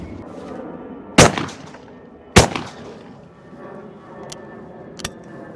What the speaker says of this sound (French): il est temps à présent de voir ce que donne ce fusil